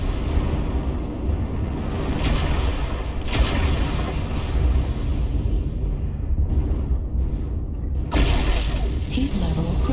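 Video game artillery strike explosions: several booming, rumbling blasts, with a big impact near the start and another sharp burst toward the end, under a constant low battle din.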